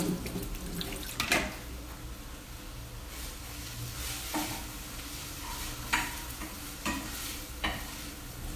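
A spoon stirs vegetable pie filling in a pan with soft scraping strokes, sizzling faintly underneath, with a few louder clinks and scrapes spaced irregularly.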